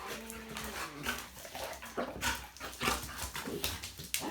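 A male Dogo Argentino whimpers and yips while playing, with a steady run of whiny, squeaky vocal bursts at close range and no speech.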